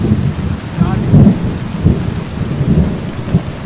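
Steady rain and rumbling thunder in the video game Kingdom Come: Deliverance II, with heavy low rolls of thunder pulsing over continuous rainfall and no talking.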